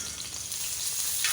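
Chopped onion sizzles steadily in hot oil on a griddle, a continuous crackling hiss with no voices.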